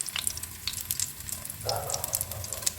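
Garlic sizzling in a hot pan, a steady light crackle and hiss with scattered pops, fairly quiet and close.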